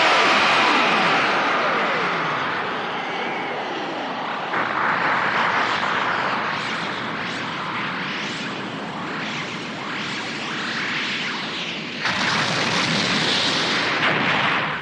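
Blaster fire and explosions roar through a Dragon Ball Z fight in which Android 16 battles Cell, a dense, loud, continuous wash of blasts and rumbling energy with a sharp surge near the end.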